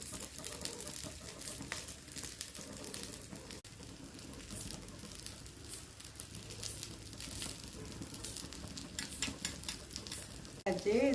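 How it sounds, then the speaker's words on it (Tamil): Steady bubbling and simmering from a pot of fish curry, a continuous busy texture throughout with a few brief clatters, close and moderately loud. "இதை ஒரு 5 நிமிஷம் அப்படியே கொதிக்கட்டும்"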